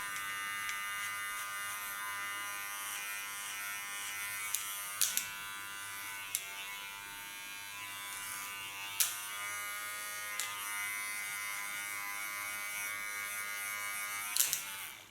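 A small electric hair clipper buzzes steadily and close up while cleaning a contour line on woolly hair, with a few faint clicks and taps over the continuous hum.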